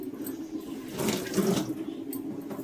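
Water runs from a kitchen tap into idli batter, a steady hiss that swells louder mid-way as the flow is directed, then eases back.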